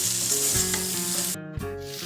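Chicken kosha being stirred in a hot pan, a dense close sizzle with spatula scrapes and a brief dip before the frying swells again.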